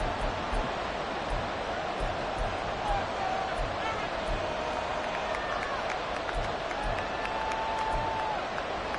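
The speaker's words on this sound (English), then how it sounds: "This crowd doing all they can." A football stadium crowd at an Eagles game near the goal line keeps up a steady, dense roar of cheering and noise from start to finish, with a faint whistle-like tone drifting through.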